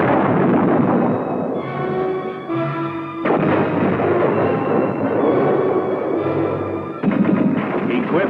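An M-60 series tank fires its 105mm cannon in deep, booming reports with rolling rumbles, two or three heavy blasts in sequence, loud and alone without talk.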